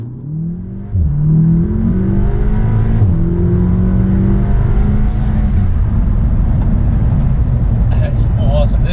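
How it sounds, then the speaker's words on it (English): A Volkswagen engine revs hard with the brake held, rising in pitch at first and then holding a loud, steady roar for several seconds, with voices close by. "Put your left foot on the brake, right foot on the accelerator, just hold it down"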